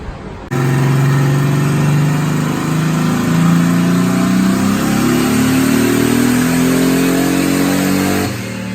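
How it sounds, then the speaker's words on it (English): Datsun 280ZX engine on a dyno making a clean wide-open-throttle second gear pull, a loud sustained roar rising steadily in pitch for about eight seconds before cutting off. "we're just gonna make a clean second gear pull, take a data log, and see what it looks like"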